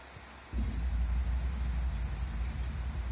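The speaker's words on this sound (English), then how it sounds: "we can listen and watch the rain fall on the roof of a freshly treated" Steady rain drumming on the freshly cleaned and waterproofed fabric roof of a Saab 9-3 convertible, a dense continuous patter with a low rumble that swells after a quiet moment at the start.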